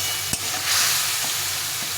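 Spice paste frying with a little water for pointed gourd curry, a dense close sizzle and hiss with a couple of soft stirring knocks, no voices.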